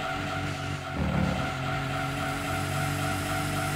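A Toyota Supra race car in Gran Turismo 2 on PlayStation, with a steady game engine drone and tire squeal surging briefly, then holding at a constant level.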